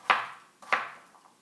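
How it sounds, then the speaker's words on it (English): Two crisp knife chops through sweet potato on a cutting board, evenly spaced and close up, followed by a softer third tap. "So I like to just cube my potatoes"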